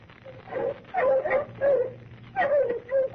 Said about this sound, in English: I am going to get some bloodhounds.